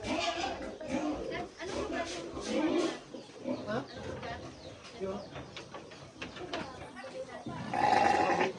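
Sheep on a small farm in Tanay bleat in goat-like cries, several short calls mixed with people talking nearby, with a louder burst of bleating near the end.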